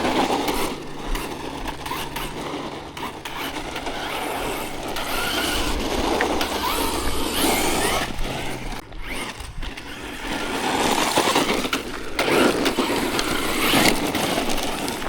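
Hosim X07 RC car on a 3S battery driving across a gravel area, its drivetrain whirring and grinding steadily with loose stones crunching under the tyres, close and continuous for the whole stretch.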